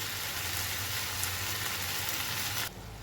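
Slit ripe chillies hit hot oil in a pan for a Bengali pui shaak dish, setting off a steady, loud broadband sizzle that runs unbroken and then drops a little near the end.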